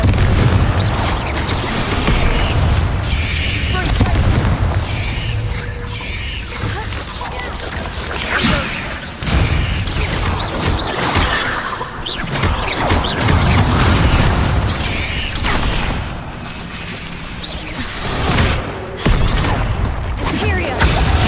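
Confringo blasting spells burst in Hogwarts Legacy combat, loud booming explosions and rumbling impacts repeating over about twenty seconds amid busy game effects, with a voice shouting spell names over them.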